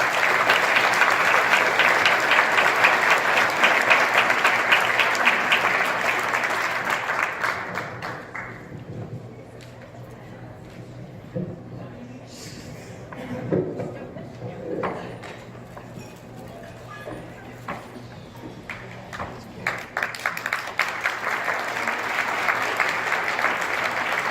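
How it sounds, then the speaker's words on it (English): Applause from an audience at a community education foundation honoree event fills the first several seconds loudly, fades to a lull with scattered taps, then swells back near the end. "round of applause for Sharon and Manesh"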